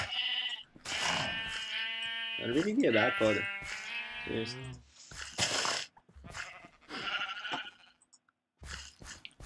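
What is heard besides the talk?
sheep bleating in a video game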